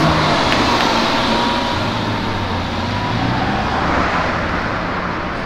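Steady, loud road noise from a car pulling away along Avenida Europa, a broad continuous rumble with passing traffic, no voices over it.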